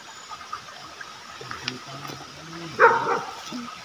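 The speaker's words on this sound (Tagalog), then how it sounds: "May aso." A dog barks outdoors at night, a single fairly near bark standing out briefly over faint background noise and distant low voices.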